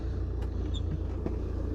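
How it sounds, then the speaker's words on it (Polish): An old car at a scrapyard idling after being started, a steady low engine rumble running close and even throughout. "odpalam furkę"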